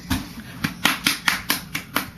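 A few hands clapping in a steady, evenly spaced rhythm, about ten sharp claps over two seconds, close and fairly loud with nothing else underneath.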